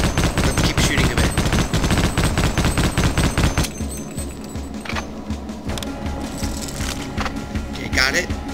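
Rapid machine-gun fire in the video game Half-Life: Opposing Force, a dense rattling stream for several seconds that then drops to scattered shots and game noise, with someone talking over it.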